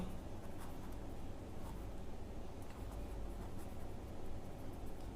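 Pen writing a chemical formula by hand on paper, a faint, steady scratching under low background hiss, continuous and close, with no talking.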